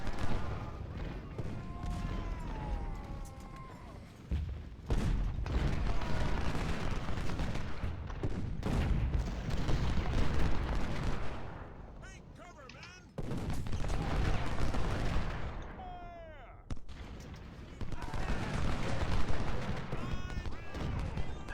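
Artillery booms and crackling musket fire from a Civil War battle with Union forces and 20-pounder guns, sounding as repeated bursts and rumbling volleys through the whole stretch, with voices talking over parts of it.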